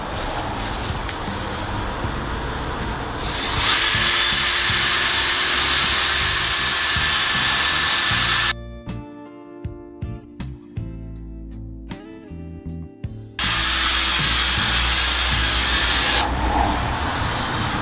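A loud, steady cordless-drill whine runs for several seconds while sanding a Lexus RX headlight, cuts to quieter clattering and knocks, then the high-pitched motor roars back on.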